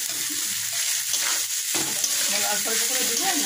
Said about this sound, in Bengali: অল্প অল্প করে দিব আর নাড়বো